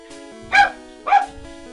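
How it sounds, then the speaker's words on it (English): A pet dog barks twice indoors, two short close loud barks about half a second apart over a faint steady background tone. "That's my dog."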